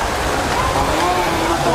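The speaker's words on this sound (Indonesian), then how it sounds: "Hujan sudah mulai turun." Steady rain falls in a village, a dense even hiss of drops on surfaces that stays constant and loud throughout.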